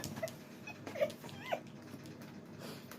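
A dog whimpers in several short, thin, high whines spaced across a few seconds, fairly quiet and close, with no talking over it.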